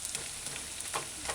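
Vegetables with ginger and garlic sauté in a saucepan over a low gas flame, giving a steady soft sizzle with faint stirring scrapes, moderately close and without voices.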